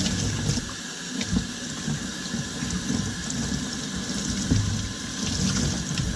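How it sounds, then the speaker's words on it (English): An EFI filter rinsed with water, a steady close spray and splash of running water continuing throughout at moderate level, with no talking. "So we'll give this a rinse here."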